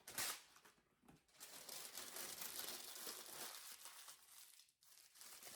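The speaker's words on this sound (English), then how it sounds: "Parchment paper works better for you if you crinkle it up and then open it back up and then it forms." Parchment paper is crumpled up in the hands in a kitchen, close and quiet crinkling with short bursts and brief pauses, no talking over it.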